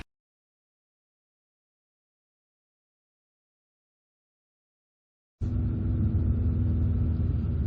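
A Genesis G70 2.0 turbo engine while driving, a steady low rumbling drone from inside the car that starts abruptly after several seconds of silence and holds constant.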